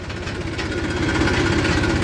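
A tractor engine running steadily in second gear of the high range, a continuous even chug with no hunting, close and loud, alone without voices.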